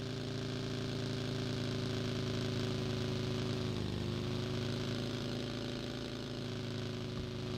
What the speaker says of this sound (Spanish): no sé qué será, parece una moto.